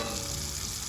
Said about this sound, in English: I have the butter melted, the garlic's in there. It's been about a minute simmering in here